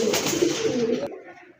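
A female pigeon at a pigeon sale gives a short, low, throaty coo lasting about a second, close and fairly quiet, then breaks off into near silence.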